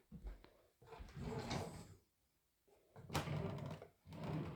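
A drawer being pulled open and rummaged through while hunting for a slide whistle, with a few close wooden thunks and sliding rattles separated by brief pauses.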